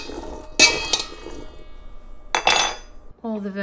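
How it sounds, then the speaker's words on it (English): Chopped beets and other vegetables being tossed in a metal bowl, giving two loud bursts of scraping and clanking with softer rustling between, close to the microphone, before a brief voice. "So we're gonna making a lot of noise with this microphone and the metal bowl."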